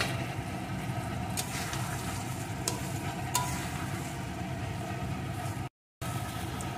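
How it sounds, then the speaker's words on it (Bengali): Fried potato and pointed gourd being sautéed with prawn masala in coconut-milk gravy, Bengali potol chingri style: a steady close sizzle with occasional scraping stirs, briefly cutting out near the end. "আলু পটলটাও এর সাথে আরও একটু কষিয়ে নেব।"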